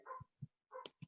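A dog barks indoors in a council budget hearing room, giving a quick, faint run of small yips and barks with short gaps between them.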